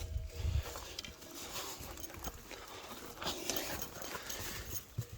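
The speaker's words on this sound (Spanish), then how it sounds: "Qué bien andan estas vacas entre los canchales." Cows pick their way across rocky scree, their hooves making faint, irregular knocks and clatters of shifting stone against a quiet outdoor background.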